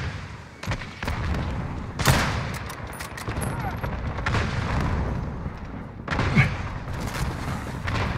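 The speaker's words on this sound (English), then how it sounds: "Allied cluster strike inbound." Cluster strike explosions in Call of Duty Modern Warfare (2019) on the Arklov Peak map: a rapid string of sharp booms and crackling blasts, some close and loud, mixed with game noise.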